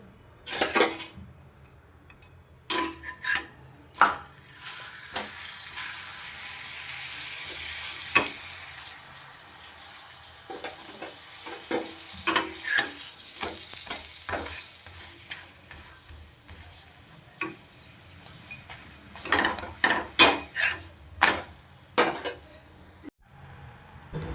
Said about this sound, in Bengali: আমি বাটার দিয়ে ভাজবো পরোটাগুলো